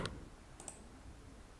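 Several quiet computer mouse clicks, one single tap and then a quick double click, barely above a faint steady hiss.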